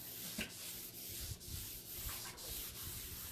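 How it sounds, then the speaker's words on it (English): Wax is buffed by hand on a chalk-painted surface, giving repeated soft rubbing strokes with a few sharper scuffs, close and quiet with no talking. "Okay, I think I've buffed this enough."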